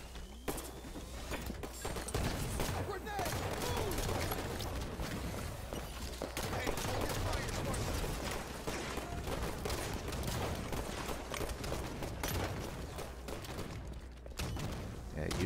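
Halo 5 multiplayer gunfire crackles in rapid bursts and single shots over a steady backdrop of game noise, mid-distance and continuous.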